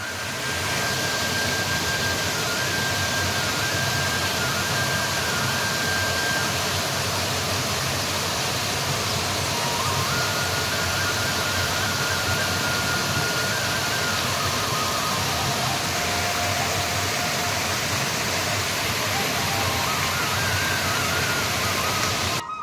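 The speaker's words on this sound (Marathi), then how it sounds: "या धबधब्यामधून उमटणारे नादमधूर स्वर" A loud, continuous roar of rushing water from the Vayangavade waterfall, flowing down rocky cliffs, fills the scene without pause, steady and close.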